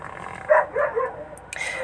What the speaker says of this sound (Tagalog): Ba't tumatahol yung aso ko?